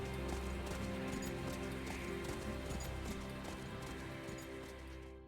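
Horse hooves clip-clopping at a steady gallop during a night ride in the video game Octopath Traveler 2, a continuous rhythmic beat over a dense musical bed that fades slightly toward the end.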